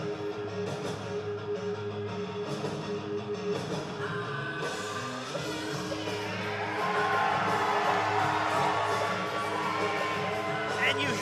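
At a SoCal Pro Wrestling show in Vista, California, a crowd gives an ovation, with cheering and whoops swelling louder in the latter half while a voice talks over it.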